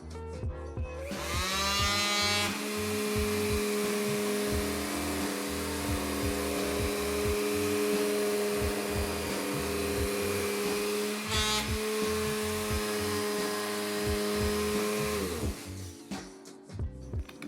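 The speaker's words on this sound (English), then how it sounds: "This is the sander that we bought today from Menards." A newly bought electric sander works along the grain of wooden stair treads during a staircase makeover, a continuous buzzing whine with a steady hum underneath, starting up around two seconds in and cutting off near the end.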